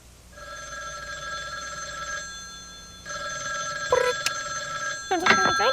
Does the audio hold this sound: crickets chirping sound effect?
no